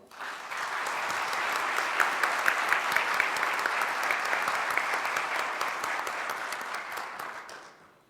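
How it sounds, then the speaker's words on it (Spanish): Sustained applause from an audience at an international lawyers' congress, a dense steady clapping that swells quickly, holds for several seconds and tapers off at the end. "el cual les pido un fuerte aplauso"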